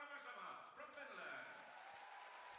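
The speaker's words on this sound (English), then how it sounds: "And there's the cheer once more." A crowd at an international show jumping competition in Finland cheers and applauds in a faint, distant, steady roar that lasts a couple of seconds.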